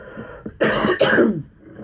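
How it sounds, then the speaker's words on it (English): Two harsh, close coughs in quick succession, preceded by a brief throat noise, then quiet. "if I cough a lot, please forgive me"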